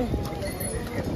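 Horses carry pilgrims down the rainy Kedarnath mountain trek, their hooves clip-clopping in a busy, uneven patter. Voices of people on the path mix in around them.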